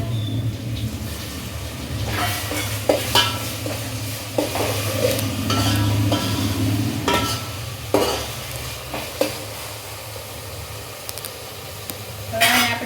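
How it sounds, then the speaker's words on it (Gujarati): Onions and tomatoes fry in a pan with a steady sizzle while a spoon stirs and scrapes, adding sharp metallic clinks against the pan at irregular moments. "હવે ડુંગળીને બે મિનિટ શેકાવા દઈશું હવે આપણે એમાં નાખી દઈશું ટામેટા"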